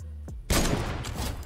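Loud burst of rapid gunfire from a weapon in the video game Fortnite, erupting suddenly after a brief sound and continuing as a dense, close volley.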